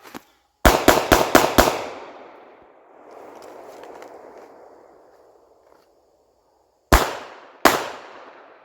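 Handgun shots fired while transitioning from a primary handgun to a backup gun: a rapid string of five loud sharp reports with echoing tail, a pause, then two more separate shots.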